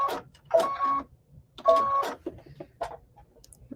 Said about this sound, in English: we're going to go ahead get this sewn together.